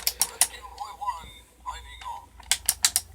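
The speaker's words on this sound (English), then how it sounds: "He's got elbows on nice ratcheting joints. Shoulders on nice ratcheting joints." Crisp clusters of clicks from the ratcheting elbow and shoulder joints of a Tonka Transformers toy figure, with someone talking in the quiet gap between them.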